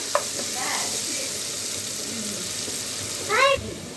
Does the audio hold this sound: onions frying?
yes